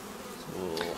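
Honeybees buzz around an opened hive during an inspection, a brief, faint, steady drone with a few nearby wingbeat whines.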